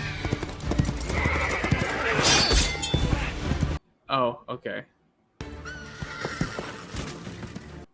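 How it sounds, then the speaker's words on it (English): A horse whinnies and its hooves clip-clop loudly in a film scene amid crashing action and music, then a brief pause where a person speaks before the film sound resumes. "Oh no, not the horse."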